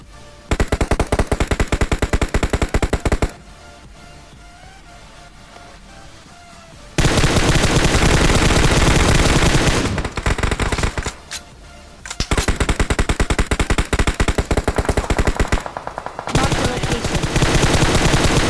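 MK rifle fire in PUBG Mobile comes in long, loud bursts of rapid automatic shots, broken by a few short pauses and quieter gaps between volleys.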